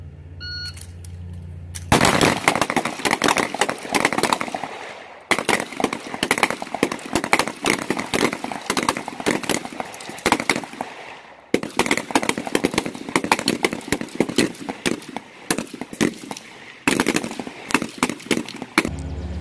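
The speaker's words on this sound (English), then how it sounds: "2 rounds standing, 2 rounds kneeling, and 2 rounds prone in 18 seconds." Rapid gunfire rings out at a sheriff's academy firearms qualification, where shooters fire from standing, kneeling and prone positions against a timer. Loud, dense volleys of overlapping shots run for several seconds at a time, broken by brief pauses, with no speech.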